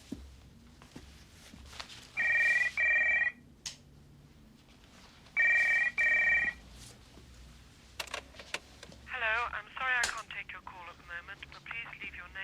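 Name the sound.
telephone ringing during a phone call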